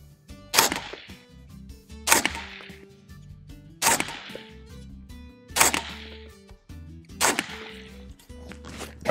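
Five sharp, loud pistol-caliber gunshots from a Foxtrot Mike FM-9B AR-9 carbine firing Federal HST 124 grain +P rounds, spaced roughly every one and a half seconds outdoors, each with a brief ringing tail.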